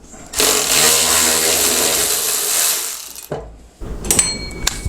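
A Milwaukee M12 cordless ratchet spins a fastener through a U-joint, a loud, close mechanical whir lasting about three seconds, then stopping, followed by a few small metallic clicks and rattles.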